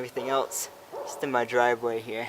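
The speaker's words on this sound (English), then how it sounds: "sorry about the dogs in the background," Dogs yip and bark in the background outdoors in a driveway, several short bursts mixed under a man's close speech.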